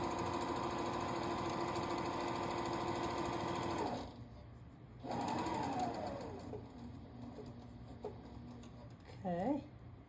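A sewing machine stitches a pillow seam at a half-inch allowance, a close steady whirring run that stops, restarts, then trails off into short bursts, with a voice speaking over parts of it.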